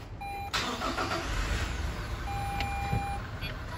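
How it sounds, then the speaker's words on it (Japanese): A diesel Dark Prime II van, a two-wheel-drive model, cranks and its engine starts, then settles into a steady close idle. A few short electronic chimes ring out over the running engine. "はい、ではエンジンかけていきます。"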